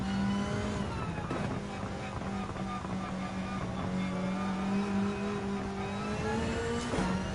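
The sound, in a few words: race car engines racing at Suzuka in Gran Turismo 7 video game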